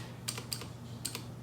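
Keys pressed on a computer keyboard during a Raspberry Pi electronics build, a few quick close clicks in two small pairs over a low steady background hum, with no talking.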